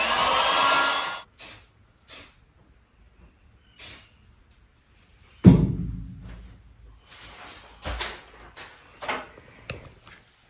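A heat gun blows across freshly sprayed green camo paint on the edge of a Tracker jon boat, starting with a steady airy rush, then breaking into short intermittent bursts of hiss with a low thump midway.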